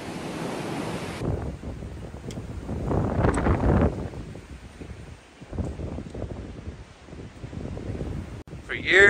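Strong wind gusting through a mountain birch glade in winter, loud roaring surges that rise and fall with heavy buffeting on the microphone, and a brief voice at the end.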